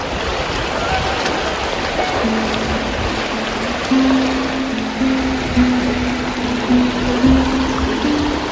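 River water rushes steadily through the Narrows canyon in Zion National Park, a constant broad wash with a faint tonal hum running underneath, heard close and alone.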